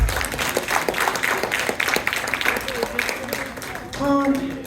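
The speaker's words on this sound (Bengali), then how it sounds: "সকল শিল্পীর জন্য আর একবার হাততালি হয়ে যাক।" Audience applause for performers at a cultural event rises as a steady, moderately loud patter of clapping, while a voice speaks over it near the end.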